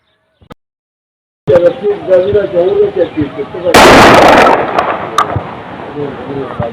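A short-barrelled 12-bore shotgun fires Shaheen golden brass cartridges outdoors. One loud, close blast cuts in midway and rings out briefly, with someone talking before and after it.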